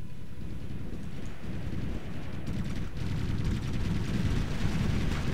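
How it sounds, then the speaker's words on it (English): Heavy gunfire and explosions in the Ground Control II strategy game, a dense continuous rumble of battle noise with no talk. "We're under heavy fire."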